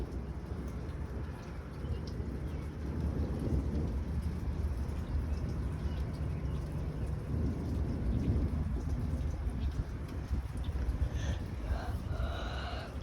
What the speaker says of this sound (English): massive fork lightning.